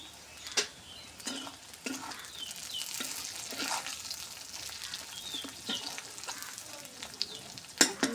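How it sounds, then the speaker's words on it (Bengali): Garlic cloves and green chillies frying with browned onion in a pan, a continuous close sizzle with occasional scrapes and clinks of stirring, a louder clatter near the end, no voices. "আর রসুনের কোয়া দিয়ে দিলাম।"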